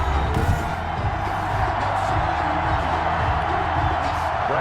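Stadium crowd noise from Madden NFL 21 before a Miami Dolphins versus Tampa Bay Buccaneers kickoff, a steady, dense roar of many voices with faint cheers rising now and then.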